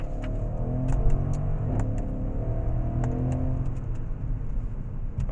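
A 2012 Mercedes-Benz ML63 AMG with a 5.5-liter bi-turbo engine accelerates, heard from inside as a steady, loud low engine roar with faint clicks above it.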